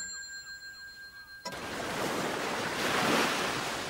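Sea waves roar onto a wild, rugged shore, a sudden surge of broad rushing surf building loud and near after a quiet opening with faint tones.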